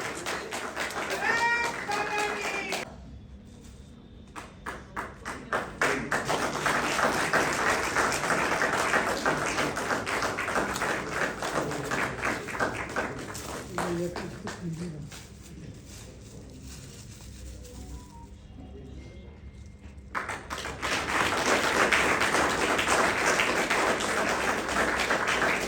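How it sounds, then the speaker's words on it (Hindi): Applause from an audience at a book launch event, swelling into dense clapping bursts that pause and return, with some voices and brief vocal sounds mixed in. "पुनः तालियां, फिर तालियां।"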